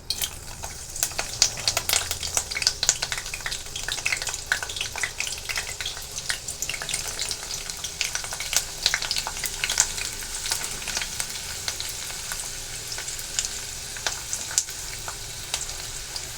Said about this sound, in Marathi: आपण तेलामध्ये कांदा परतून घेणार आहे